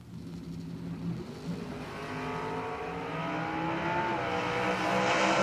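Short-wheelbase Vega drag car launching and accelerating hard down a 660-foot drag strip at a Spring Fling event, a loud, rising engine roar building steadily in pitch and volume with no talk over it.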